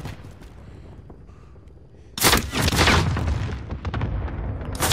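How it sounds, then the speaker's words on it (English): A Call of Duty cluster strike erupts after a quiet stretch, with a sudden loud blast followed by a dense, rumbling barrage of overlapping explosions that carries to the end. "Enemy cluster strike incoming."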